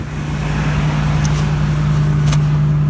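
A car engine idles steadily and close after the carburetor idle screw was turned up to cover a sticking high idle solenoid, a constant low hum with faint brief ticks on top.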